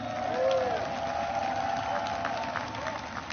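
Large crowd applauding and cheering for Moldovan President Sandu at an outdoor speech, a broad roar of clapping and voices with a rising shout early on, sustained throughout.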